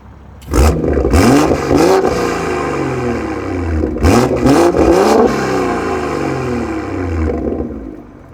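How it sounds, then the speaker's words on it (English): A BMW M340i with an aftermarket catback exhaust roars through repeated revs, with sharp throttle blips rising and falling over a steady deep idle burble. "That is the Master of Art and Design catback exhaust for the M340i, and I think it sounds great."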